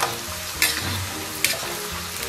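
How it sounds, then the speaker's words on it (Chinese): Scallion, ginger and garlic go into oil at about 60 percent heat in a wok for braised beef ribs, a steady close sizzle with a couple of sharp spatula scrapes while stir-frying. "咱们把葱姜蒜给它下进去，"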